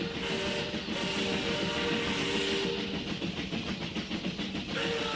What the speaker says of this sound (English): there was a vibration in the earth which quickly turned into a violent pulsation as a train roared out